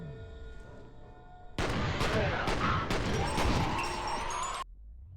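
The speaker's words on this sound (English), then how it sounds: "A burst fire rocket launcher." A burst-fire rocket launcher in F.E.A.R. lets off a rapid volley of loud, booming blasts over about three seconds, with the explosions crashing together before falling off abruptly into quieter game ambience.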